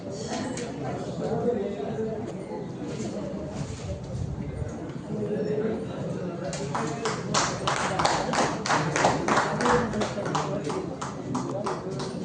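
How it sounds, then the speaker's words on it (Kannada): An audience at a company business function in a hall applauds, with scattered claps growing into denser, louder clapping in the second half, under a constant murmur of voices. "ಚಪ್ಪಾಳೆ ಕೊಡ್ಬೇಕು ಸರ್"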